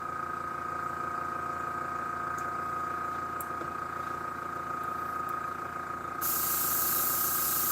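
Airbrush hissing steadily as it sprays paint onto a model car, a continuous airy spray that carries on with no break and swells slightly louder toward the end.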